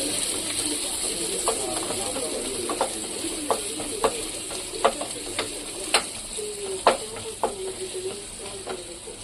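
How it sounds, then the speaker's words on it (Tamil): Onions sauté in a pan for pepper chicken fry, a constant sizzle broken by a string of sharp spatula clinks and scrapes as they are stirred. "வெங்காயம் போட்டு வச்சு நல்லா வதக்கிட்டுக்கலாம்"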